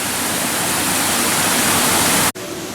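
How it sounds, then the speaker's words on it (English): A loud, dense rush of falling water from a waterfall by a swan-boat lake at Gilroy Gardens amusement park, steady and close, with a brief dropout near the end. "if you come towards the end, there's a beautiful waterfall"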